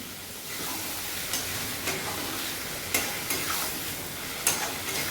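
Water hits a hot pan of cooking mango chutney and bursts into a continuous hissing sizzle, broken by regular sharp scrapes and taps of stirring.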